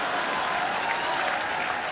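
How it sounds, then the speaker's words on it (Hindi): Audience applause at a Bollywood poster launch party: a dense, steady burst of clapping from a crowd, loud and continuous throughout. "जोरदार तालियों से स्वागत कीजिए"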